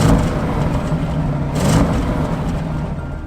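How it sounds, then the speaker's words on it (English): A 2021 Audi RS7 with a 4-litre twin-turbo V8 of 600 horsepower, rumbling deep and close with a brief swell in revs partway through, no voices. "Under the bonnet you'll find a 4-litre V8 twin-turbo engine that churns out 600 horsepower"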